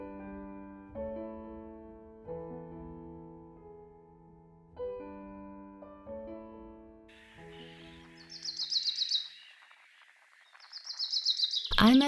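Birds chirp and sing in a small city park with a pond, first a clear repeated melodic call, then higher bright twittering bursts, close and distinct over quiet surroundings.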